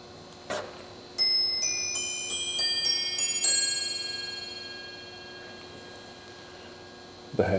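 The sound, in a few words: New Haven eight-bell chime clock playing quarter-hour chime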